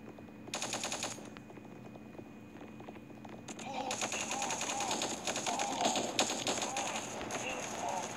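Automatic weapon fire in the mobile shooter Guns of Boom crackles in two bursts, a short one and then a longer, denser stream of rapid shots, moderately loud with faint voices underneath.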